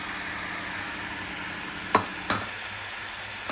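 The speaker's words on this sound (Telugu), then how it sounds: "ఇట్లా కొంచెం పచ్చి వాసన పోయేదాకా వేపాలి" A paste of ground onion and tomato fries in a pan, sizzling steadily at close range, with a couple of sharp clicks of a utensil stirring partway through; no one speaks.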